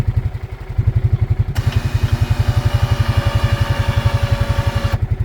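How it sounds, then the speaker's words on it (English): A Can-Am Outlander 700 ATV thumps at a steady idle while its new winch kicks in with a bright, even whine that runs for several seconds over the engine pulses, then cuts off cleanly. "Alright, new winch."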